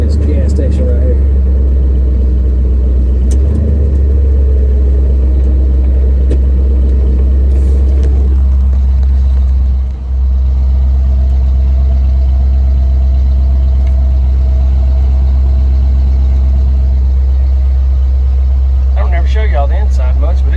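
A 1974 Ford F100 pickup engine runs at a steady low idle, a loud continuous rumble close by with little change in pitch, while someone talks over it.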